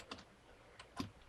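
A few soft keystrokes on a computer keyboard, quiet and close, spaced irregularly over a second or so with no talking.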